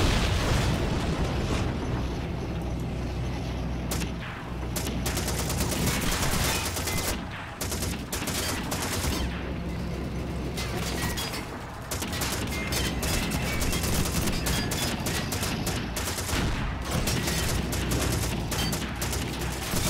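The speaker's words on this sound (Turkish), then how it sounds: "Tankın taramalısı var, tarıyor," Tank cannon fire and gunfire in the video game Call of Duty 2 form a loud, dense, continuous barrage of shots, booms and explosions with only a few brief dips across the whole stretch.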